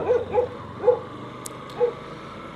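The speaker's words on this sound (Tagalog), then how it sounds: "Ang daming aso." Dogs bark outdoors in Taiwan, giving four short, moderately loud yips spaced about half a second apart over a low background hum.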